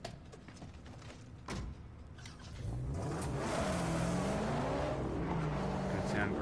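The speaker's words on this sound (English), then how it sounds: "Just drive through here." Car engine in a video game driving through an airport, revving and rising in pitch as it accelerates, steady and fairly loud, with talk over part of the stretch.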